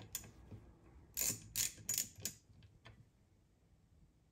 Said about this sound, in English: Get my ratchet here